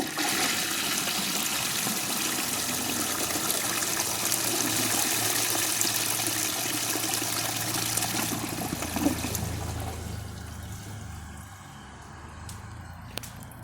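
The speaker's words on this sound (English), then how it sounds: "So I'm just gonna let it fill up to where the handle is, and then I'll flush it." A 1945 Kohler toilet flushing into a bucket, a loud rushing gush of water lasting several seconds that tapers into a quieter trickle and refill as the bowl drains, close up.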